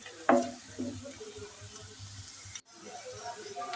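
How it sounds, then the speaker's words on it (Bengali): Onions stirred while frying in cooking oil with cinnamon, bay leaf, cardamom and cloves, giving a soft close sizzle with a couple of scraping stirs near the start and a brief drop out midway. "এখন আমি এই যে লাড়তে আছি।"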